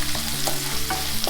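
Ginger garlic paste sizzles and fries steadily in a hot pan for a wedding-style potato curry, with a few soft stirring scrapes over a constant close crackle.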